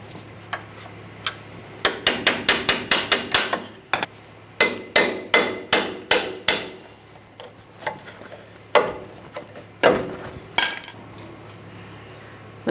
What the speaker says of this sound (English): we can continue on lightly tapping them out of position